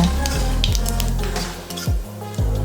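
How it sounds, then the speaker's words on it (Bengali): Cumin seeds sizzle and crackle in hot oil in a pan, a continuous frying hiss with occasional stirring, set against steady tonal background sound. "এবারে ওই গরম তেলেই ফোড়নে দিয়ে দেবো হাফ চামচ জিরা জিরাটাকে হালকা নাড়াচাড়া করে ফুটিয়ে নেবো"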